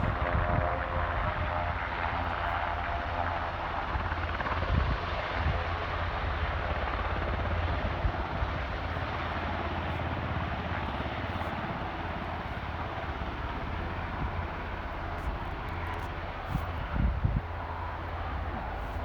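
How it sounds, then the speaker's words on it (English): Aircraft engines and a helicopter at Aberdeen airport, a steady loud broadband roar with low rumble holding for the whole stretch, with faint voices underneath. "I'm excited to see this other aircraft take off."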